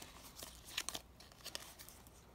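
Clear plastic cosmetic bags from a dollar-store makeup section are handled, giving soft, irregular crinkles and crackles of thin plastic close by, with no talking.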